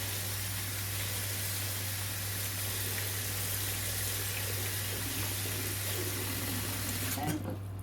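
Cold tap water runs steadily into a sink to rinse freshly picked green beans, a constant hiss with low mains hum and a small clatter near the end.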